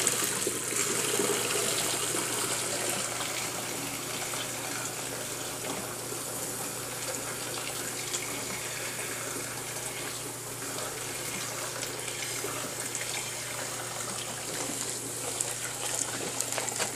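Homemade Chilean Merlot grape wine pours through a filter and sieve in a continuous, even splashing gush that runs steadily from start to finish with no talking.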